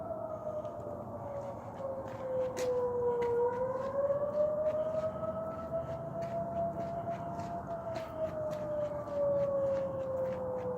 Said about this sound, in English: We have air raid sirens going off for some reason all the way around us